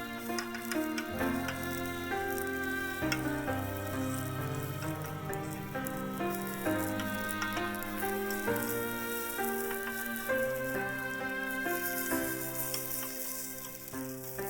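Beaten egg for a Japanese tamagoyaki omelette sizzles steadily in an oiled frying pan, a continuous crackling fry that sits beneath louder background music throughout.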